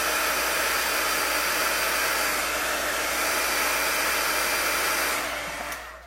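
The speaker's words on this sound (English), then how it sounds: "I'm just going to heat set it quickly because I don't want it to be wet. So I'm just going to take my heat tool." A handheld heat tool blows steadily to dry and heat-set stamped ink on a card, a loud, close, continuous whooshing roar that holds for about six seconds and then begins to tail off at the end, with no voices.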